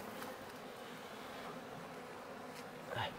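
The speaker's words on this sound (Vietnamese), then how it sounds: "Thùng này có ong đực rồi mọi người." A close, continuous hum of honeybees around a wild hive with drones, steady and even, with a brief louder swell near the end and no talking.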